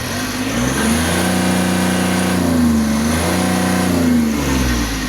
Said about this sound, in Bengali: গাড়িটি কিন্তু স্টার্ট অবস্থায় আছে এখানে দেখতে পাচ্ছেন সাইলেন্সার শব্দ শুনতে পাচ্ছেন আপনারা